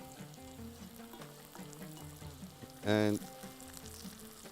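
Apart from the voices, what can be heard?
onions and black lemon frying in a pot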